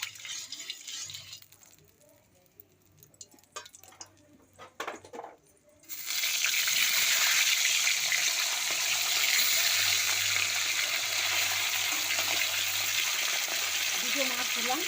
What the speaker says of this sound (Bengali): প্রথমে মাছটাকে আমি ভেজে নেব।